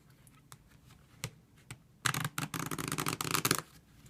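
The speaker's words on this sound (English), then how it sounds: "But we can just give the pack a little shuffle." A pack of playing cards is shuffled by hand, with a few scattered soft flicks and taps first, then a dense, crisp riffling burst lasting about a second and a half, close and clear.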